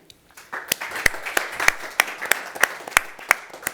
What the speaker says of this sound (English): Big applause for him.